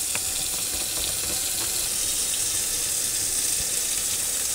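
Water runs steadily from a hot-water tap into a sink for mixing nectar, a continuous close hiss and splash with no talking.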